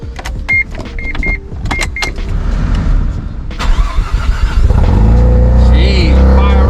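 A Mazda RX-7 FD sports car starts up: a few clicks and whirring sounds first, then the starter cranks and the rotary engine fires into a loud, close, steady idle.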